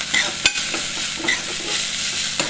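Drumstick leaves frying in a pan give a steady, close sizzle, punctuated by a few sharp scrapes and clinks of a utensil stirring, with no voices.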